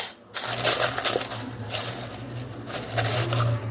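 Homemade fried potato sev being crushed by hand for a chivda, giving a steady dry crackling and crunching that runs nearly continuously with small bursts, close and fairly loud, with no talking.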